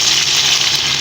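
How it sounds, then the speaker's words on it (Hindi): Water pours onto rice in a cooking pot for a rice kari recipe, a loud, continuous gushing splash at close range with no talking. "अब इसमें तकरीबन हम 8 प्याली जितना ना हम इसमें पानी डाल देंगे"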